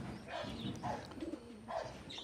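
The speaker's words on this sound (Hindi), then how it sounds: "So he has made a pigeon loft here." Soft, low cooing from pigeons kept in a pigeon loft on a goat farm, several throaty calls repeating close by in a quiet setting with no talk.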